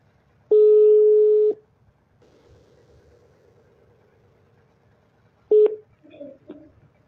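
A telephone line tone plays as a single steady tone for about a second, followed by a faint murmur. A brief second tone comes later, then a few short soft sounds near the end.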